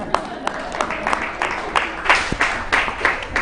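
A conference audience at a cancer and palliative care meeting in Uganda applauding, steady hall-filling clapping with a few sharper claps, under faint speech.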